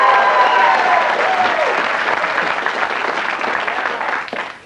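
Studio audience applause on the 1991 Blockbusters quiz show, loud, dense clapping from a crowd that runs continuously and tapers slightly at the end, with a faint voice underneath early on.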